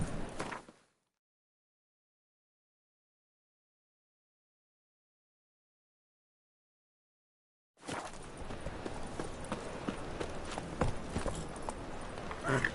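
Horse hooves trot in The Witcher 3, a steady close clip-clop rhythm that starts only after a long stretch of silence and keeps going to the end.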